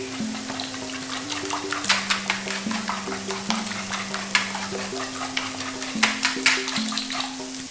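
A giant whisk beats an egg and milk mixture in a bowl with rapid, steady clicking and sloshing strokes, close and busy, while a tonal hum of music plays underneath.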